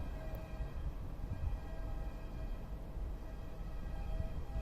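An Avanti West Coast train on the West Coast Main Line pulls into Crewe station, heard as a faint, steady low rumble with a soft background hum throughout and no voices.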